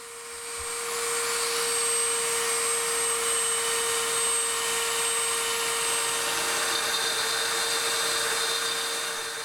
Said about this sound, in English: This is a standard off-the-shelf Dremel tool.